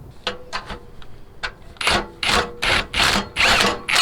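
A power tool drives a bolt on a Hummer H3 in short, repeated bursts of whirring and rattling, growing louder and longer toward the end, with a few light clicks between.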